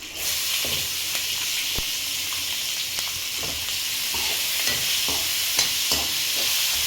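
Something fries in a pan toward pink golden brown with a loud, constant sizzling hiss. Scattered scrapes and taps of stirring rise through it, and no one speaks.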